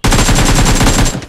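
Rapid loud burst of automatic gunfire in the mobile game PUBG Mobile, a fast string of close, evenly spaced shots lasting just over a second before cutting off.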